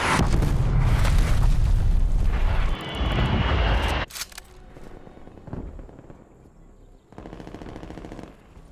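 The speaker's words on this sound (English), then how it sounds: "Hostile artillery targeting active. Net call, incoming artillery." Incoming artillery in a PS4 combat video game: loud, dense bursts of blasts and rapid gunfire fill the first few seconds, then thin out into quieter, scattered impacts and rumbles.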